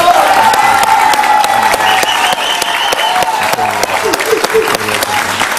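An audience breaks into loud, sustained applause to welcome a guest onto an interview stage, with a dense crowd of clapping hands and faint cheering, while a voice talks over it.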